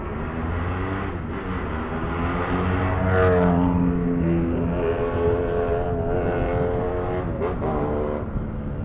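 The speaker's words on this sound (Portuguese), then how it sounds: "O cara gosta de fazer barulho, bota o escapamento só pra fazer barulho." A car engine with a loud, raspy modified exhaust rumbles and revs nearby, swelling in pitch as it accelerates past, then droning on.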